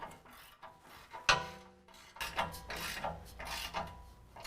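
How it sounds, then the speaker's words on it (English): A 3/4 inch ratcheting wrench tightens rear bumper bolts on a 2017 Chevy Silverado 2500, making close, quiet bursts of clicking, ratcheting strokes with scraping and handling noises between them. "we can go ahead and tighten down all of our bolts, and that's going to be a 3/4 inch ratcheting wrench or a socket"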